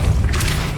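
A Depulso repelling spell in Hogwarts Legacy fires as a single short, loud, low boom with a brief hissing burst in the middle, under a second long.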